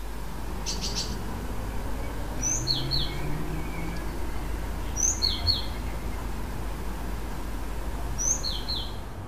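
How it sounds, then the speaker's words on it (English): House sparrow giving short repeated chirps in small clusters at intervals, moderately near over a steady outdoor background hum. "The very recognizable sound of the house sparrow."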